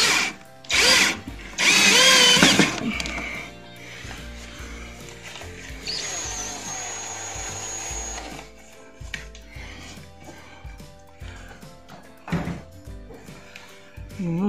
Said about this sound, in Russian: Немножко надо накрутить болтов.